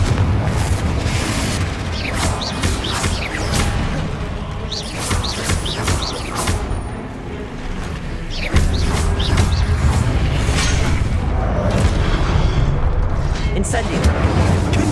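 Confringo fire-blast spells bursting in Hogwarts Legacy, repeated loud booming explosions over a dense game soundscape with chirping birds, while a voice keeps calling out spell names.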